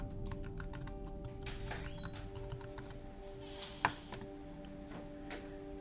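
Quiet, irregular tapping of keys on a computer keyboard as text is entered, faint and close with one sharper click partway through.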